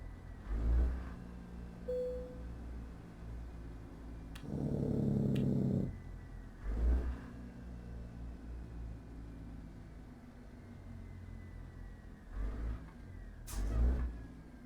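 A Cummins Signature 600 diesel in an American Truck Simulator rig, forced downshifts on an automatic transmission, bursts of revving swelling several times over a steady low engine drone, with one thick grinding stretch mid-way.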